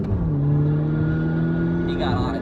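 A Honda Civic Si accelerating hard nearby, its mid-pitched engine note holding steady and rising as it pulls away, heard alongside a car interior with someone talking over it.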